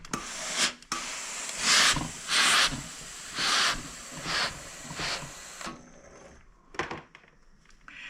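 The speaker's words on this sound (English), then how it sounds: "Now that we've got those all ironed, I think I'll iron it on this side too." A steam iron presses the seams of a sampler quilt block, giving several close bursts of hissing steam with soft rubbing of fabric between them and quiet pauses.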